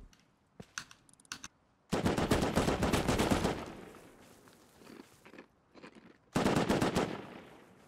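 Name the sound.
AK rifle gunfire in video game Rust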